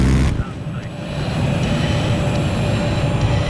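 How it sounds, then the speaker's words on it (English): Helicopter rotor and engine rumble in a video game, a steady low droning noise filling the whole clip while a player talks over it. "We got another helicopter."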